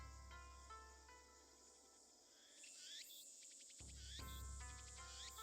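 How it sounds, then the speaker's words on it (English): Cicadas drone and chirp steadily in a hot evening scene from the Steins;Gate video game, a continuous pulsing insect buzz with repeated shrill bursts, moderately faint and without speech. "The cicadas won't shut up."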